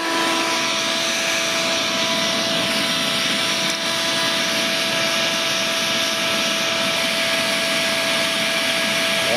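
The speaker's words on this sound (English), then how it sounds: "And now I'm going to turn on my air supply. Just my blower." Air blower feeding a backyard metal-melting furnace roars in a steady, loud, continuous rush of air with a faint tonal hum, unbroken throughout with no talk.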